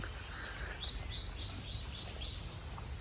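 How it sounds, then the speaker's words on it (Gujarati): Sparrows chirping outdoors in Sasan Gir give a faint series of about six short, evenly spaced chirps over a steady background hush. "નેચરલ વાતાવરણ છે અવાજ બવાજ જો આવે ચકલા વકલાના"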